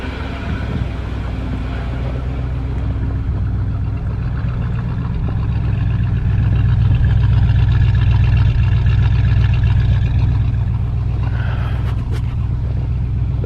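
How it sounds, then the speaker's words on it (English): An old carbureted truck engine idles steadily in -35C cold, a loud, continuous low rumble with an even throb that swells slightly midway, no talking over it. "Doesn't that sound like a happy engine?"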